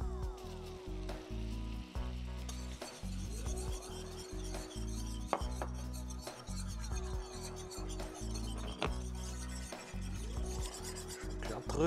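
Flour is stirred into a simmering caper sauce until smooth, a close, rhythmic scraping and rubbing of a spoon against the pot in repeated strokes, with a faint sizzle beneath and no talking.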